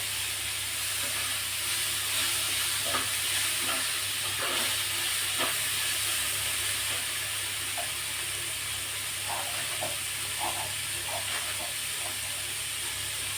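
Green chili with garlic and ginger frying in a pan for kolambi (prawn) masala, giving a steady close sizzle and hiss with faint scattered crackles throughout, no talk.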